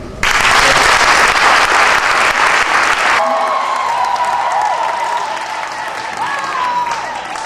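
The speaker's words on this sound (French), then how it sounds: "Je voudrais donc que vous joigniez à moi pour applaudir." An audience bursts into loud, dense applause that holds for about three seconds, then drops abruptly to a quieter background with faint tones and room noise.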